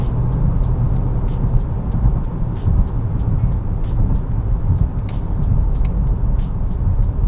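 A 2018 Honda Accord Touring in sport mode driving fast into a corner, heard from the cabin as a steady deep engine and road rumble with light intermittent ticking, no talking.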